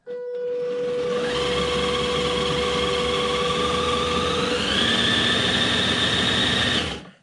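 A 1/7 scale Double E Land Rover Defender 110 electric RC car running at throttle, a steady, loud motor whine whose pitch steps up partway through before cutting off at the end.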